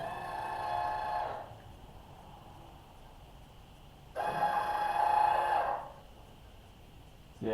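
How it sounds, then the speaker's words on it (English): A battery-powered linear actuator for a Mario Kart brake build runs in two bursts, each a whining, buzzing motor tone lasting a second or two, separated by a quiet pause. "To test out this linear actuator to see what it's going to look like"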